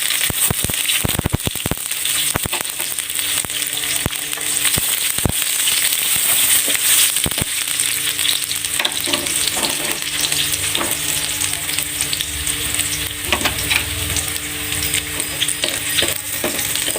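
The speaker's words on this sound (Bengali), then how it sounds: "আমার তেলটা গরম হয়ে গেছে, এখন এখানে আমি এই যে পেঁয়াজ কুচিটা দিলাম" Chopped onion, then garlic, hit hot oil in a pan and set off a loud, steady sizzle that is close and continuous, with sharp crackling pops bunched near the start.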